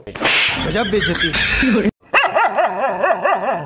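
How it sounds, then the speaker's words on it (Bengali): A dog yelps and whimpers in sharp, wavering cries as it is beaten, loud and close, with a brief silence between bursts. "কুত্তাটারে পিটাচ্ছেন কেন?"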